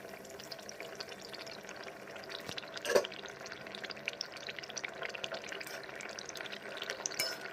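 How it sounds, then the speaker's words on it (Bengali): Fish curry simmers in a pot with a quiet, continuous bubbling and sputtering, and a brief sharper knock or clatter partway through. "এবার আরও কিছুক্ষণ একটু ফুটিয়ে নিয়ে তারপর নামিয়ে নেব"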